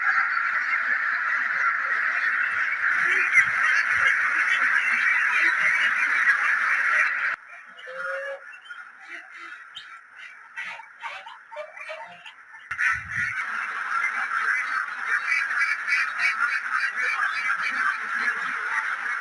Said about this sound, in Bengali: ডিম পাড়ার জন্য হাঁস সব মিলে চার হাজার